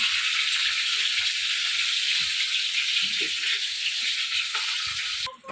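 Bhetki fish bones cooking in a pan in a home kitchen, giving a steady, even frying hiss throughout with a few faint low knocks and a brief clatter at the end.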